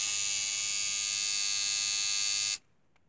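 A DIY tattoo machine powered by a 0.5 amp AC adaptor buzzes in a steady, high, even whine, then cuts off abruptly, leaving near silence.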